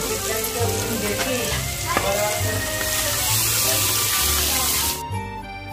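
About two and a half pots of water poured into a cooking pot over oil, turmeric, asafoetida and ground chili paste, a loud continuous rushing sizzle up close, with music playing beneath and stopping near the end.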